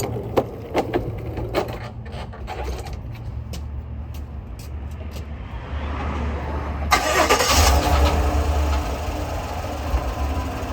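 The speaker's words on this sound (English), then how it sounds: "let me go ahead and start the truck" A GMC Sierra pickup engine cranks and catches at close range, a burst of broadband roar that settles into a steady idle, preceded by scattered clicks and knocks while someone gets into the truck.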